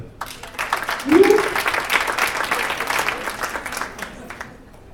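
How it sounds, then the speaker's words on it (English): Comedy-show audience applauding with scattered cheers and whoops, fairly loud and steady, swelling early then tapering off toward the end. "Round of applause."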